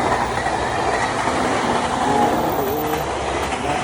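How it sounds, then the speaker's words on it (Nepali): A train arriving at a crossing where the road has been closed, a loud, close, continuous rumble of rolling wagons and wheels on rails without a break. "अब चाहिँ रेल आइसक्यो, उहाँबाट रेल आउँदैछ"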